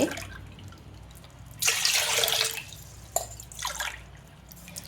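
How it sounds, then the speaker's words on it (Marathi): Cups of water are poured into a pot for a wheat and jaggery kheer, giving two short splashing pours close by with quiet gaps around them. "मी 3 पेले पाणी टाकून घेतले।"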